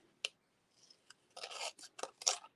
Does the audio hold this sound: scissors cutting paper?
yes